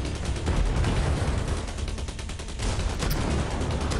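A minigun chatters in continuous sustained fire in the drone military shooter game Drone Shadow Strike, a dense loud roar of rapid shots with a couple of brief dips, up close and with no talk over it.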